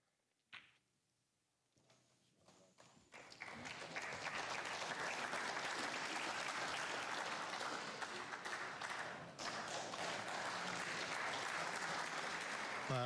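A snooker crowd at a Yan Bingtao versus Mark Williams match bursts into sustained applause after a brief quiet start, the clapping swelling within a few seconds and holding loud and dense for the rest, with no talk over it.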